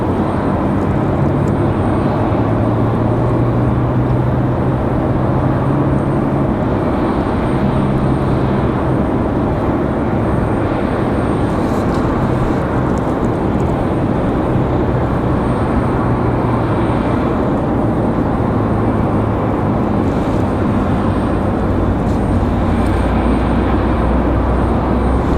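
Southwest airliner arriving from Nashville at Raleigh Durham airport, a loud, steady jet roar held at close range for the whole stretch with a low rumble underneath and no talk.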